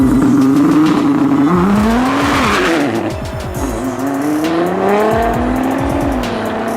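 Drag race between a BMW X5M with NOS and an Alpha 6 GTR, loud engines revving and rising in pitch through the gears, with tire squeal and the roar of both cars close by.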